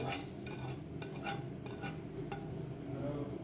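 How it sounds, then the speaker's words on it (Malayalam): Ivy gourd being mixed by hand with ginger-garlic paste and salt, a soft, steady squelching and stirring with light clinks against a dish, close and moderately quiet with no talk. "കോവയ്ക്ക ഫ്രൈ ചെയ്യാനുള്ള സാധനങ്ങൾ ചേർത്ത് നമുക്കൊന്ന് കുഴച്ചെടുക്കാം"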